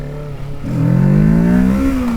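A Kawasaki Ninja 650 motorcycle revs hard as it accelerates into a small wheelie, the engine note climbing and swelling loud and close over about two seconds, with wind rush behind.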